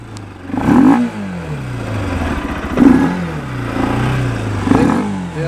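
A Bajaj Pulsar 200RS motorcycle engine revved up three times toward its RPM limit, each rising to a loud close roar and dropping back to idle between revs.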